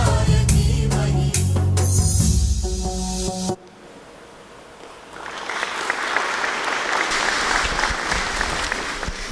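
An audience applauds after a girls' performance at a 2022 school prize-giving day. The clapping comes in as music stops abruptly, then a brief hush swells into broad, steady applause from a crowd in a hall.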